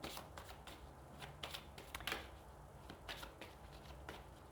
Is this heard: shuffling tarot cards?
yes